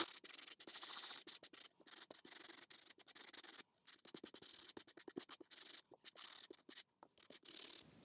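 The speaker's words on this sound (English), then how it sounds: "But grit 150, and we're just gonna sand it ever so slightly." Sandpaper of 150 grit rubbing lightly over a painted wooden Christmas decoration in green and gold, giving close, steady scratchy strokes broken by short pauses, with no voices.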